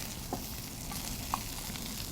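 Mushrooms fry in a pan for a pepper fry, giving a steady soft sizzle with a couple of faint clicks, close and alone without talk.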